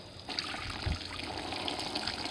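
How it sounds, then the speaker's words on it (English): Water pours and trickles into a basin for hand-washing laundry at a state park, a steady close splashing flow with a brief thump near the start. "I'm going to add a little bit more water to this."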